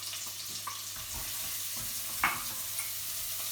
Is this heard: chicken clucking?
no